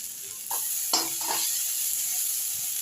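Boiled figs, cooked earlier with salt and turmeric, fry with a little turmeric powder in a pan, a steady soft sizzle broken by a few stirring scrapes and clinks partway through.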